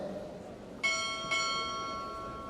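Two strokes on a ship's bell during a Navy recruit training chief pinning ceremony, spaced about half a second apart, each clear metallic ring sustaining and slowly decaying against low background hush.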